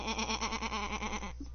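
A human voice imitates a sheep's bleat, one long wavering nasal "baa" with a quavering pulse, close and fairly loud, trailing off at the end.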